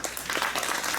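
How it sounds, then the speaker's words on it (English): Brief burst of audience applause at the close of a Carnatic music concert with violin and mridangam accompaniment, a quick patter of clapping lasting about a second at moderate level. "a big round of applause for Akshay and Kirti"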